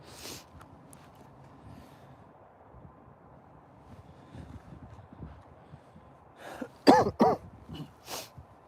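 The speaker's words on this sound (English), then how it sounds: "excuse the cough" After a quiet stretch of soft background noise, a close, loud cluster of coughs and throat clearing breaks out, ending with one last cough.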